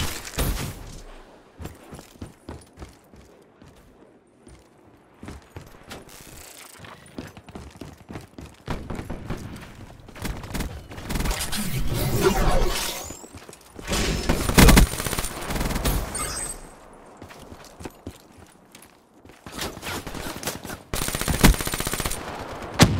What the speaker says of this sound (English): Sentry, opening fire.